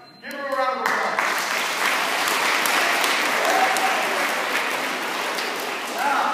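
Classroom applause at an intermediate charter school breaks out after a brief moment, swelling into steady, sustained clapping from a group of students that fills the room until the end.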